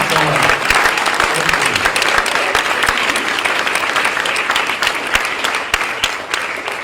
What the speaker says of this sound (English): let's give this group of folks one more round of applause